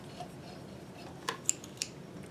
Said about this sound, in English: perfect, a little snip and pull.